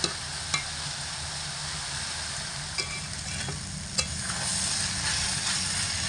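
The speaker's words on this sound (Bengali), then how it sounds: "হালকা হাতে নাড়াচাড়া করে ভাজাটা কিন্তু বানাতে হবে" Chital fish stems being stirred and fried in a pan over medium-high heat, a steady close sizzle broken by a few sharp utensil clinks against the pan.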